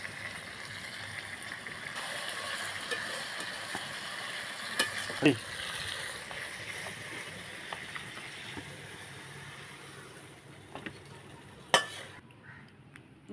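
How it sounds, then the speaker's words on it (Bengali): Tilapia fish curry simmers in a pan while it is stirred gently. A steady bubbling sizzle carries a few soft scrapes and one sharper clank near the end. "হালকা হালকা করে নাড়তে হয়, নাহলে সব ভেঙে ভেঙে যায়।"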